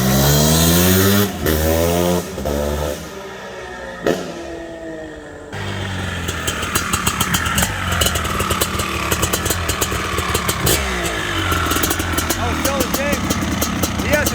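Maico 700 two-stroke enduro motorcycle from 2023 revving hard up close, loud raspy blips rising and falling, then settling into a rapid crackling idle-to-rev burble that runs on continuously.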